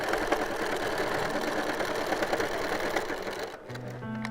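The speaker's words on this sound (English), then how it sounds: "So we'll just sew it together." Sewing machine stitching a quarter-inch seam to join quilt block pieces, a fast, even mechanical whir close by that stops abruptly near the end, followed by faint clicks and hum.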